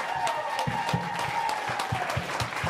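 An audience at the Oddfest live show applauds in a steady wash of many hands, with a few distinct louder claps and a low murmur of voices under it.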